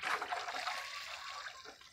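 Water poured from a container onto dry peat moss in a seed-starting tray, a continuous trickling splash for about two seconds that slowly fades, close by and moderately loud.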